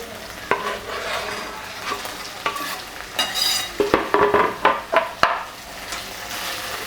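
Tomatoes and onions sizzle in a pan while a spoon stirs them, a steady frying hiss with a run of distinct scraping strokes clustered toward the end, close and clear with no talking.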